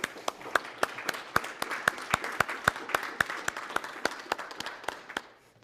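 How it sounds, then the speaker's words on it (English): An audience applauds, a dense patter of many hands with some sharp individual claps standing out, steady throughout before easing off at the end. "How about a round of applause for these guys?"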